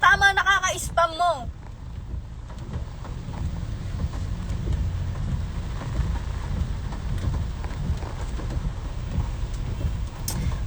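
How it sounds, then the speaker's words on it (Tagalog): Steady rain roars as a constant hiss over a phone microphone during a live stream, loud and unbroken for the whole stretch, after a brief voice at the very start. "Malakas ulan dyan."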